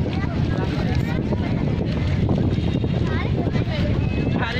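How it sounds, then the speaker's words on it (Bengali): An engine-driven trawler passes on the Padma river, its low engine rumble buried in heavy wind noise and the wash of small waves, continuous and loud. "একটি ট্রলার, এটার নাম হচ্ছে ইঞ্জিন চালিত ট্রলার।"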